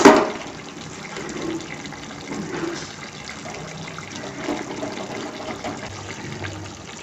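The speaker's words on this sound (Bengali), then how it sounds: "যে বাটি ধোয়া জলও দিয়ে দিলাম একটু পোস্তর মধ্যে।" Water used to rinse a bowl is poured into poppy seed paste cooking with ridge gourd: a brief splash at the start, then a low, soft trickle and bubbling continuing quietly.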